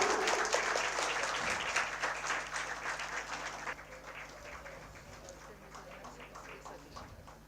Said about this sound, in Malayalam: ഓഡിയൻസ് നല്ലൊരു കയ്യടി കൊടുക്കാം.